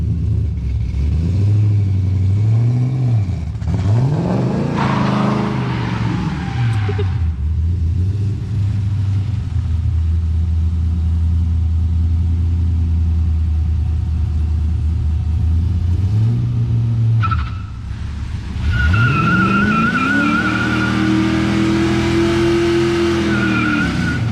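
A 240 car doing a burnout, engine revving hard while the tires spin and squeal, loud and close, with the pitch rising and falling through several surges over a continuous roar.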